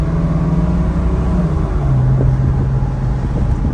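A Porsche 996 with a check engine light on drives along, its engine a loud steady drone with a low hum and a slight shift in pitch midway.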